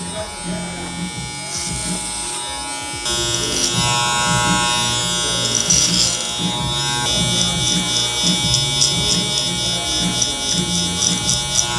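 Electric hair clippers buzz steadily throughout a low taper on the sides of a modern mullet at a barbershop, a continuous close, loud motor whine with slight shifts as the blade moves through hair, with some speech-like murmur underneath.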